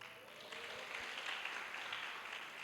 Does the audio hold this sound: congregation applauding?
yes